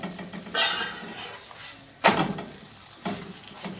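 Msemen flatbread is flipped in a pan with soft clattering thumps, then sizzles quietly in oil between a few more gentle scrapes and taps, close and fairly faint.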